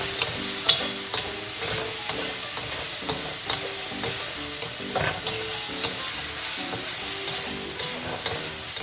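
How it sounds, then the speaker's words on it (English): Minced garlic browning in a pan and being stirred, with a steady close sizzle broken by repeated scraping strokes of a utensil against the pan at an even, unhurried rhythm. "I'm going to stir that around and let that garlic get brown"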